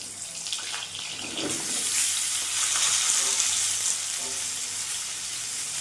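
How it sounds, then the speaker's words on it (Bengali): Pieces of pointed gourd (potol), washed, drained and seasoned with turmeric and salt, fry in hot oil with a steady, loud sizzle that swells after a soft start, with occasional stirring scrapes and no talking. "পটলটাকে লাল লাল করে ভেজে নেব।"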